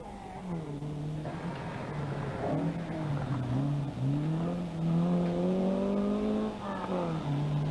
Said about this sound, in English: beautiful Porsche puttering its way all around the stages